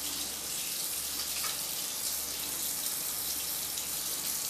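Cold water runs steadily from a kitchen tap into a sink, a continuous close hiss and splash with no pauses and no talking.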